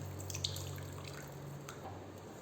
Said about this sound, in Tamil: இப்போ நம்ம கரைச்சி வச்சுருக்கோம் இல்லைங்களா புளி, அது வந்து வடிகட்டி வச்சுருக்கேன். இப்போ அதையும் இது கூட சேர்த்துக்கலாங்க.